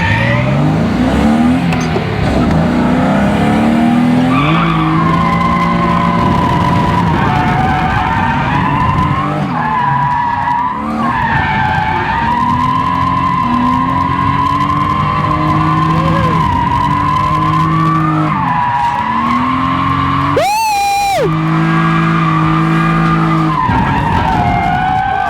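A BMW E36 with a GS6-37DZ six-speed swap drifts, its tires skidding in a long, loud continuous screech over revving engine, with pitch shifts as throttle changes and a sharp burst near the end.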